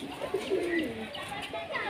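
A yellow-ringed male Giribaj pigeon coos in low, throaty murmurs, with a voice talking faintly underneath throughout.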